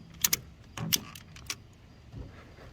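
A ratchet tie-down strap cranked tight over a Triumph motorcycle: a few sharp metallic clicks in quick pairs, then a softer rattle and one last click, quiet and close in an otherwise hushed space.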